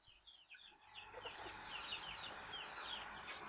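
Chickens cluck in a repeated, chattering run at close range, with a steady farmyard hiss beneath and no talking, the calls growing busier and denser toward the end.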